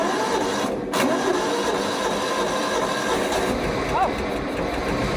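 An old Toro lawnmower engine, choked by hand, runs steadily throughout, with a continuous broadband mechanical roar close by; a person speaks briefly over it.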